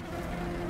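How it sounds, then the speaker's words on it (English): Summoned bees swarm in Grim Dawn, producing a steady, close insect buzz with a droning hum, brief and continuous with no talking over it. "God, they're summoning bees!"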